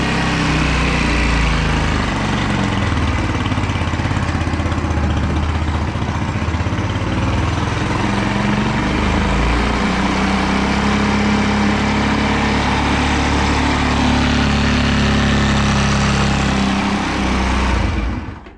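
A Chinese 4-stroke 139QMB scooter engine runs steadily after repair, a close, even mechanical drone with a buzzy idle that carries on unbroken for nearly twenty seconds before cutting off.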